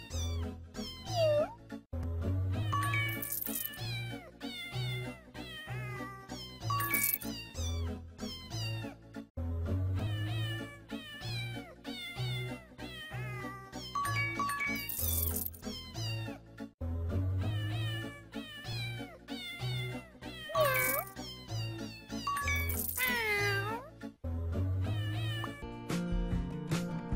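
A cartoon cat meows repeatedly in rhythm with bouncy, upbeat music in a kids' cat hair salon birthday party game, its sung mews loud and bright throughout the tune with no talking.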